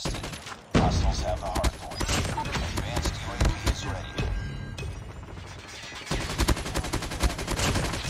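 An LMG fires in rapid, sustained bursts during a video game match, loud and dense with brief gaps and impact crashes, while a player's voice comes through over the shooting.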